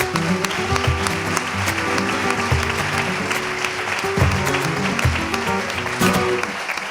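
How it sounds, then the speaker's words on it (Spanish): A radio show's live audience applauds at the close of a broadcast about Marinaleda, sustained, loud and dense clapping with scattered louder claps throughout, no voices over it. "Un aplauso para vosotros."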